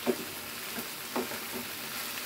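Spice masala sautés in a pan for a bhindi dish, a soft, steady sizzle with a couple of faint stirring scrapes, fairly quiet and close.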